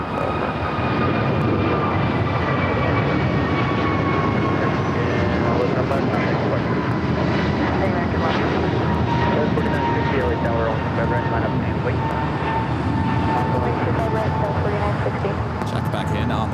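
An airliner rolls down runway 25 right at LAX, a loud, continuous engine roar with a steady whine that holds throughout, heard from nearby without any break.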